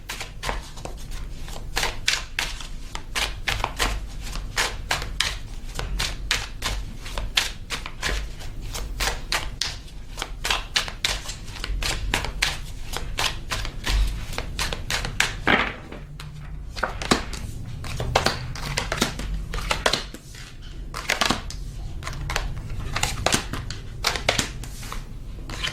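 Tarot cards are shuffled and pulled from a deck in a long, fast run of crisp riffling flicks and soft slaps, close and steady, with brief pauses as cards are drawn.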